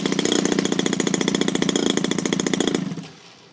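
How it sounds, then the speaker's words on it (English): A small petrol engine fitted with an autostart system fires up and runs with a loud, rapid rhythmic chugging for nearly three seconds, then shuts off and fades to near silence. "now we're going to go for a restart"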